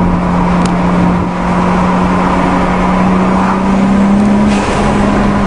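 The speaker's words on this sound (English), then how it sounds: "there's a car pulling out" A car pulls out and accelerates nearby, a steady engine drone with a rising tone, heard alongside a 1993 Toyota Supra turbo on a road.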